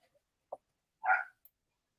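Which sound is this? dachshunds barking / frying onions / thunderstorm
dachshunds barking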